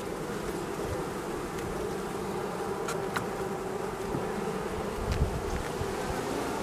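Bees hum steadily in a hive, a continuous close buzzing with a few individual insects rising briefly above the drone.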